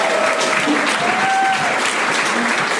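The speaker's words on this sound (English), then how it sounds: "Let's give Anna a round of applause" Steady applause from a live audience at a podcast event, filling the whole moment with dense, even clapping, with a little crowd noise and a faint voice underneath.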